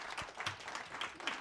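An audience at a drug policy symposium applauds, a soft, steady patter of many hands clapping heard from a distance at low volume.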